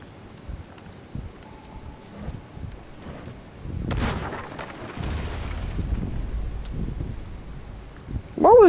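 A game explosion booms out mid-clip, a broad low rumble with a sustained tail, amid quieter ambient wind and scattered game noises, with a voice briefly at the end.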